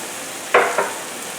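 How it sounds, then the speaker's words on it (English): Ghee spooned into hot bottle gourd halwa in a pan, giving two quick close sizzling bursts over a low background hiss. "Now I'm going to add 1 tablespoon of ghee."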